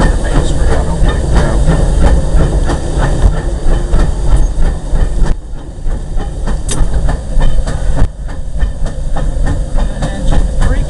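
Disneyland Railroad locomotive No. 1, the C.K. Holliday, heard from the cab while running: a loud, continuous rumble and hiss with rhythmic clicking of wheels over rail joints, steady and close throughout.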